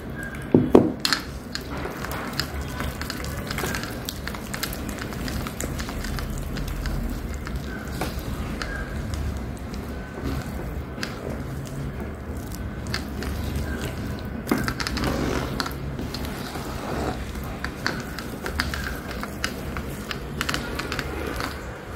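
Dough for crispy garlic sev being kneaded by hand, a steady run of soft squishing, pressing and slapping sounds with occasional light knocks against the bowl, close and continuous.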